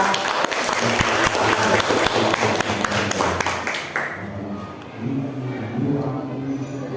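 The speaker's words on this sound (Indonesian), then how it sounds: "Ayo beri aplaus untuk kelompok" A classroom group claps for a presenting group of teachers in training, brisk and dense applause that fades after about four seconds, leaving a few scattered claps while voices murmur underneath.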